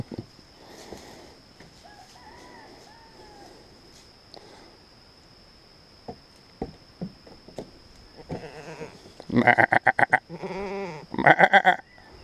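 Goats bleat in loud, harsh bursts toward the end, several calls in quick succession after quieter rustling and scattered knocks.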